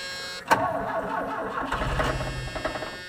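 A skid steer engine with the choke on cranks and catches with a sharp burst, then runs in a rough, uneven mid-pitched idle close by.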